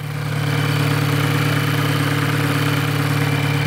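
A high-mileage Volkswagen GTI, well past 100,000 miles and abused in the past, idles steadily after starting, its engine note loud and close with a constant low drone and no voices over it.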